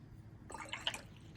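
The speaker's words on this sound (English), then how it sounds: "I'm going to wash my brush, rinse it in the rinse water." A watercolor brush is swished and rinsed in a jar of rinse water, giving a short burst of faint splashing and dripping before it settles back to quiet.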